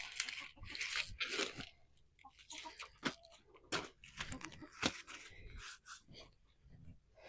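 Backyard chickens pecking at and tearing into heads of lettuce and a broccoli plant, giving a close, uneven run of crunchy bites, snaps and rustles with brief pauses between bursts.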